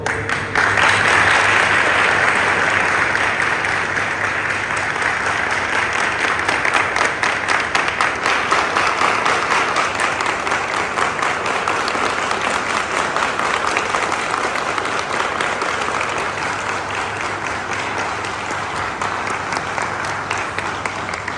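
A live audience claps steadily through the whole stretch, a loud, dense and unbroken wave of applause at a stage event.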